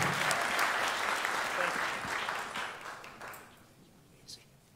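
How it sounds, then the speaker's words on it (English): A crowd at a street-naming ceremony applauds the governor, a loud burst of clapping that gradually thins and fades toward quiet, with a few scattered claps and a faint voice near the end. "Let's give him a round of applause."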